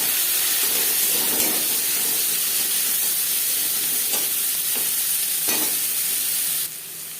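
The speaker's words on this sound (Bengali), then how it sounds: "পাঁচ ফোড়ন তেজপাতা ভেজে নেওয়ার পর দিয়ে দেবো পেঁয়াজ পেঁয়াজ হালকা করে ভেজে নেবো" Onions fry in hot oil after panch phoron and bay leaf, a loud, steady sizzle that fills the whole stretch, with a few stirring scrapes and a sudden drop in level near the end.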